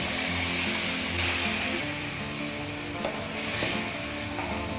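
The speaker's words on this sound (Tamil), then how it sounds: "ஒரு கொத்து கருவேப்பிள்ளையும் சின்ன வெங்காயமும் சேர்த்து வதக்குவோம்" Steady sizzling of small onions and curry leaves frying in hot oil, with occasional stirring scrapes; continuous and fairly close, no voices.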